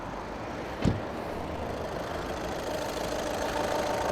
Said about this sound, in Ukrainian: Так працює двигунчик. Рівненько, тихенько, мягенько його робота.